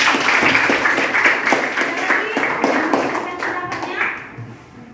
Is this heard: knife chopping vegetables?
no